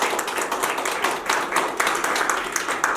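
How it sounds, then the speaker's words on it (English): A small wedding crowd claps steadily, a dense patter of hands that continues evenly throughout without pause. "so I think that deserves a warm round of applause"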